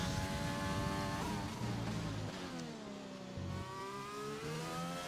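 McLaren race car engine in a racing video game, a high revving whine that climbs and drops through gear changes as the car accelerates, steady and fairly loud with no talking.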